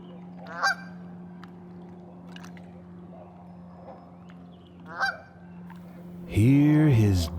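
Geese honking at a waterfowl pond, a few separate calls spread over several seconds, then a loud close burst of honking at the end over a steady low background hum.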